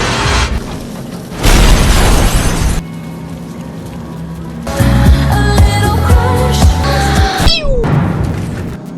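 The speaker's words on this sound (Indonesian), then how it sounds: "Suara truk meledak dia nggak bangun," A truck explodes in a film scene: a deep, heavy explosion booms loudly, followed by a rumbling roar with crashing and metallic clatter fading out.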